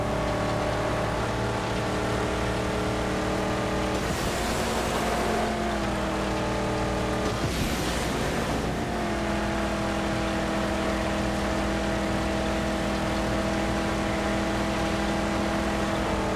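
A Phantom V6 car engine in the Mad Max video game drones loudly and steadily, rising and falling in pitch with two bursts of rushing noise as it revs and shifts; no talking.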